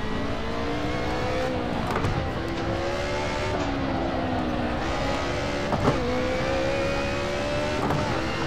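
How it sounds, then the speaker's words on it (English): Race car engine in the Assetto Corsa racing game holding high revs, a steady whining drone with harmonics that rise and dip slightly as the car runs, with brief shift or bump transients, and no talking. "I love how high this thing revs out."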